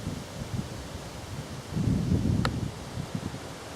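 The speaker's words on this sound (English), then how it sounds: "wind's picking up" Wind picks up across open countryside on a walk, a low steady rumbling gust that swells slightly midway, with a single faint high chirp briefly cutting through.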